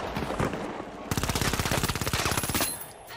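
Fast automatic fire from an M11 in the shooter The Finals rattles out in a long, evenly spaced burst of sharp close shots after a few scattered single reports, then trails off.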